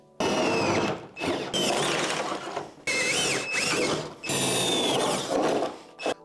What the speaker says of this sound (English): Now I'm gonna drill these last 2 holes out on each side.